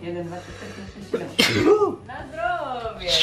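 A single sharp sneeze bursts out in the middle of the clip while a person counts numbers aloud, indoors during a homemade advent-calendar craft session.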